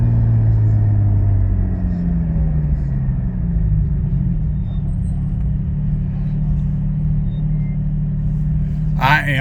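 A car fitted with a Soul Performance V2 exhaust drones at low revs with a deep, steady rumble, the engine note rising and falling gently while driving, close and continuous, with a brief burst of voice at the end.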